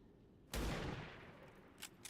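A single sharp gunshot from XCOM 2 cracks out near and loud, then trails off in a long decaying echo, followed by a couple of faint clicks.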